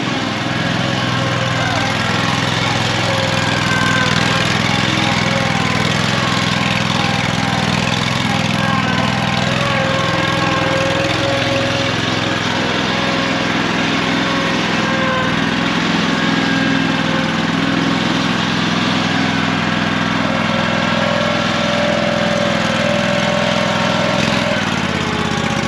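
A Toro 6000 series mower with a big block Kohler engine runs at a steady, loud, close drone for the whole stretch, rough and heavy with a constant pitch, and barely any audible talking.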